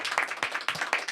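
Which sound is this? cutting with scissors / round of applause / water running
round of applause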